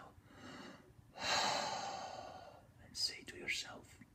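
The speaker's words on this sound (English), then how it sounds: "With each breath, repeat these words. Breathe in." During a meditation, a close, soft breath is drawn in deeply and let out in a long, airy exhale, followed by faint whispery breaths.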